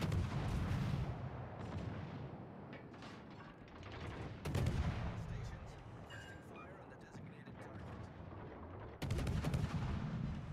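Ship guns firing in the naval game World of Warships: Legends: heavy booming salvos at intervals, each followed by a rumbling tail and scattered cannon fire, with someone talking over the battle.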